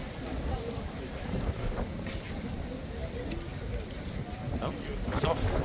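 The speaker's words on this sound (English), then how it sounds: "It is crazy windy." Strong wind gusts across an open street, buffeting the microphone with a steady, loud low roar that swells toward the end, with a faint voice underneath.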